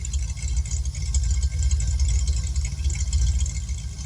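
A Ford Mustang Fox Body with Trick Flow stage 1, Flowmaster-style exhaust with H-pipe and a Recoil audio upgrade sits idling, a steady deep rumbling burble heard close and continuous with no talk.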